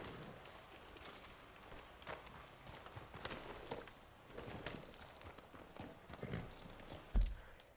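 Horse hooves clip-clop at a steady walking pace in Red Dead Redemption 2, close and moderately loud over ambient outdoor game sound, with a heavier thump near the end.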